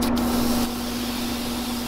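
An airbrush sprays Createx tropical green paint onto a Grinch-themed fishing lure, giving a steady close hiss over a constant low hum of the compressor, which briefly eases off partway through, with no talking.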